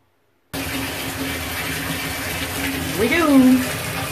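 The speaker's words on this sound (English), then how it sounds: "I'm going to turn the water on" Water runs from a tap into a bathtub, starting abruptly after a moment of silence as a steady hiss and gush that swells briefly near the end, with a short vocal sound over it.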